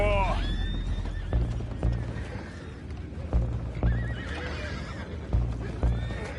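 Horses in a wild west video game whinny loudly at the start, followed by further neighs over a steady, rhythmic clatter of hooves close by, with heavy low thumps recurring every second or so.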